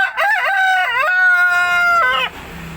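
A red rooster crows once, loud and close: one long, drawn-out call with rising and falling pitch, lasting about two seconds before it stops abruptly.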